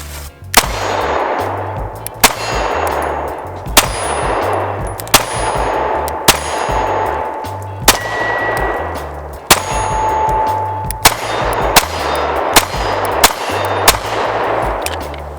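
Taurus G2C compact pistol firing at steel targets outdoors: about a dozen sharp shots at a steady, unhurried pace, each followed by a bright metallic ring as the round strikes steel, loud and close.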